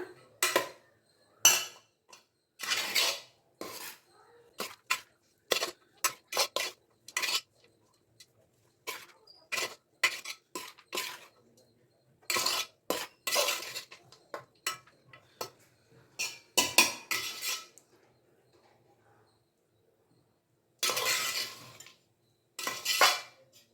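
A utensil stirs tomato rice in a metal pan with the stove off, making intermittent scraping clinks in short bursts separated by quiet pauses.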